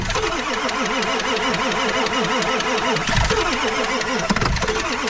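Cold start of a Ford 7.3 Powerstroke diesel truck in snow: a starter cranking in a steady rhythm, close and loud, with the engine labouring to catch and briefly firing.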